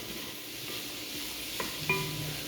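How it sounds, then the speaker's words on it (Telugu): Onions frying in a pan give a soft, steady sizzle, with a couple of brief stirring clinks near the end. "ఉల్లిపాయలు కొంచెం వేగుతున్నాయి"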